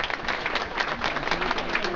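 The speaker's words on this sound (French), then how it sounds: "vous pouvez l'applaudir, mesdames et messieurs" Audience at the Gentlemen de Cannes 2010 event applauds the secretary general, a steady patter of many hands clapping at moderate volume, with voices faintly mixed in.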